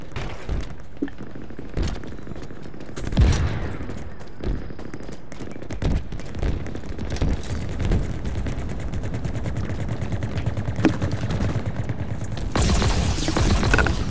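Heavy explosions and gunfire from grenade and rocket launchers in the Halo Infinite multiplayer shooter, with repeated booming blasts over a constant dense wash of battle noise across the whole stretch.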